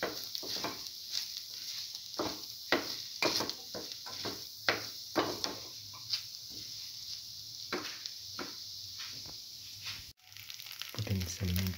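Chickpea coconut tamarind rice frying and being stirred in a pan, a steady sizzle broken by repeated scraping strokes of the spoon, close and even, ending with a brief clatter.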